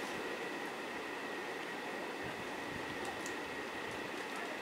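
A game train rolls past as a loud, continuous rumble with dense rattling, a few faint high squeals near the end and no talk.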